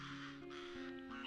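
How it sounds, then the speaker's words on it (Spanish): A flock of black jackdaws near a reservoir in the Algeciras area calls sharply while mobbing eagles in flight, with short, harsh caws overlapping closely in a quick burst. "Bandadas de negras grajillas de la familia de los cuervos acuden para ahuyentar a las águilas"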